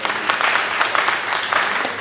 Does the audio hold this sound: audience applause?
yes